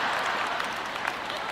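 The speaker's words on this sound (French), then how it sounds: "il n'y avait pas assez d'applaudissements à ce sujet" Audience applause in a church-style speaking event, a steady dense wash of clapping from a crowd, sustained and even throughout with no voices on top.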